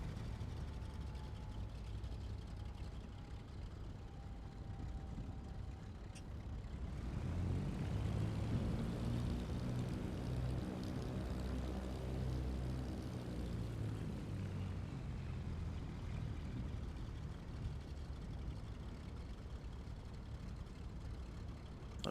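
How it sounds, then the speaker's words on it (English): Small general-aviation aircraft engines idle on a taxiway: a low steady rumble that grows louder and fuller in the middle stretch, then eases back to a quieter drone, with no voices. "I can kind of hear the sound of the engines and maybe even them cooling down there as they're at idle"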